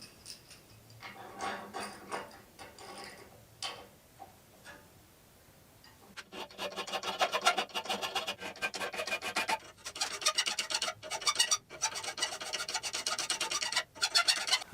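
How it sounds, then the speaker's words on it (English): A regular flat file rasps back and forth over small pieces of scrap metal being squared up for a mini C-clamp, first light scattered strokes, then dense rapid rhythmic filing that grows louder and continues steadily. "we're going to use a regular old flat file here, and we're going to try to square these up a little bit"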